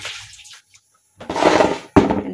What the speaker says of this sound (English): I wash my vegetables using just plain water and some vinegar, and also the fruits.